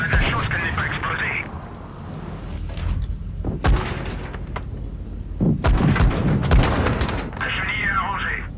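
Tank cannon shots and explosive booms in World of Tanks Blitz, several sharp blasts spread across the clip over rumbling engine and game effects, with a voice talking underneath.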